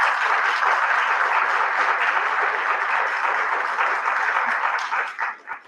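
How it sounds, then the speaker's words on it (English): Audience at a city candidate forum gives a sustained round of applause, even and fairly distant clapping that holds steady before tapering off at the end. "We need to give these people a round of applause."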